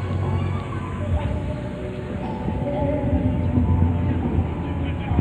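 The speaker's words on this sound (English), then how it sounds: "The train is going around." A small park train in Luneta rumbles past nearby, a steady low rolling rumble that holds for several seconds, with faint background voices and outdoor ambience.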